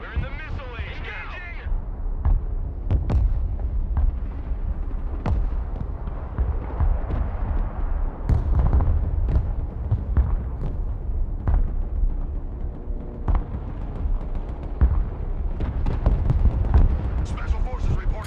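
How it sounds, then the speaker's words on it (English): Tank cannon fire and explosions in the Broken Arrow video game, a string of deep booms and sharp blasts scattered throughout, with someone talking over them. "how many times do I gotta shoot this fucking tank with another tank for it to blow up?"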